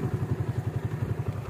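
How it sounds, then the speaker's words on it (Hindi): A motorcycle engine idles with a steady, pulsing thump in the rain, close by and loud, running evenly without cutting out. "दो मिनट बाइक बंद कर देते हैं ना"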